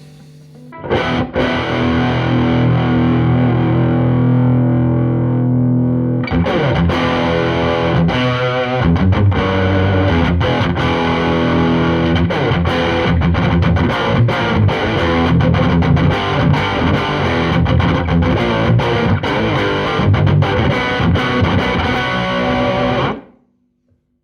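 A distorted Maybach Jazpole 63 electric guitar plays loud, dense chords and riffs with effects, starting with a sustained tone and continuing steadily before stopping abruptly.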